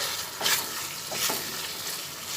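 Kofta curry masala made with bottle gourd peel koftas is stirred and sautéed in a pan, with a steady sizzle and a few scraping stirs of the spoon, close and continuous with no talk.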